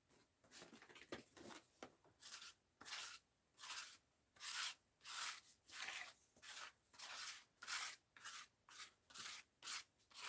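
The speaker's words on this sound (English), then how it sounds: "now we got paint here to scrape" Dried paint being scraped off an art journal page, a series of about a dozen rasping strokes in a steady back-and-forth rhythm, close and soft, with no talking.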